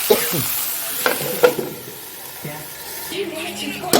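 Potatoes and cauliflower fry in a pan with a close sizzle, punctuated by stirring scrapes and clatter, and a brief voice sound is heard as well.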